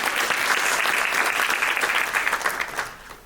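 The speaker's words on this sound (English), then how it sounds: "please give yourself a round of applause" An audience applauds at a community movement event about fighting youth homelessness in Nevada, a dense burst of clapping that holds strong before thinning and fading near the end, with no talking.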